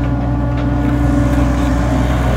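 Massey Ferguson 4275 and 4292 tractors working corn silage with a forage harvester on a sloping field, giving a steady, loud, low engine drone that holds unbroken throughout with no talking.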